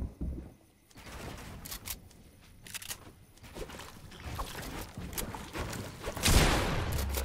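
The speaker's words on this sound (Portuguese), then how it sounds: "Que tiro foi esse?" Gunfire in the Fortnite video game: several sharp shots crack out at scattered moments, with a louder burst near the end, set against the busy in-game background noise.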